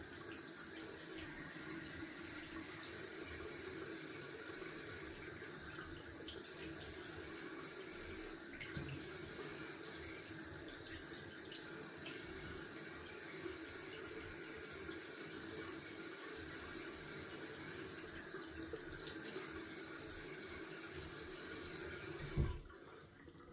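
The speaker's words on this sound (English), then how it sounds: "Going down for a cold water rinse, and the water is super cold now here with the pipes." Cold tap water runs steadily into a sink for a rinse during a wet shave, a continuous even splashing stream that stops abruptly at the very end.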